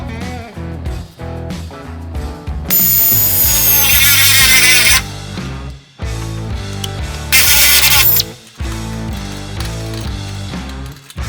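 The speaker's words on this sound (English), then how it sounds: "I'm going to just drill a hole and get the cable fed inside here" A power drill bores a hole through a drift car's metal bodywork to feed a handbrake cable, heard as close, loud bursts of whining and grinding separated by short pauses, without talking.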